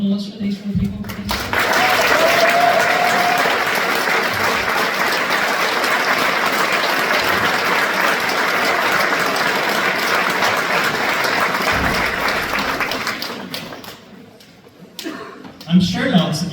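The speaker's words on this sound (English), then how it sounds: "put a really big round of applause for these four people" A crowd at a Young Farmers' Club arts festival in Moneymore applauds loudly and steadily for over ten seconds before the clapping fades out, with a few voices at the start and end.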